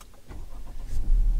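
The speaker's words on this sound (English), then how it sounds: "So if I do fire the car back up" Manual-transmission car being restarted, a brief starter whir building into the engine catching with a deep low rumble that swells near the end, close and alone.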